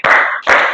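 Children in a fourth-grade classroom clap their hands together in a rhythmic counting routine before a lesson activity; two loud, crisp group claps about half a second apart, close and without talk.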